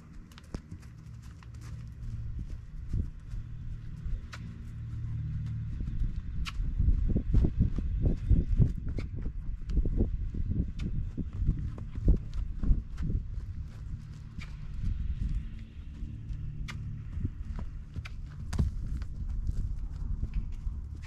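A horse cantering at liberty, its hoofbeats a continuous rolling patter on soft ground at moderate distance, with faint clicks over the top.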